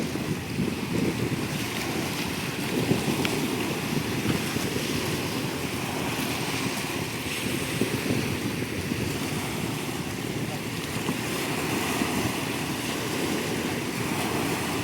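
Sea waves wash and roll against a steady wind-blown hiss, constant and fairly loud throughout, with no voices.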